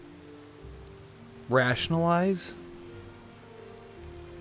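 Soft, steady rain hisses in a Skyrim game scene, faint and continuous beneath a brief spoken word.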